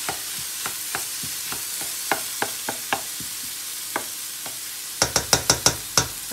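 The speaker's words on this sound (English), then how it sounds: "we're going to add the drained tofu straight in, as it is, and break it up into lots of little pieces" Drained tofu goes into a pan and is broken up with a utensil, giving a run of soft scraping, stirring taps over a faint frying sizzle, then a quick burst of sharper, brighter clacks near the end.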